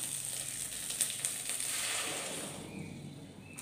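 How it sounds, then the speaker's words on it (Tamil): Steady, close bubbling and sizzling from a pot of broad bean gravy with tempering simmering on the stove, continuous and moderately loud with no voices. "இப்போ இந்த தாளிப்போடு சேர்ந்து ஒரு நிமிஷம் கொதிக்கட்டும்."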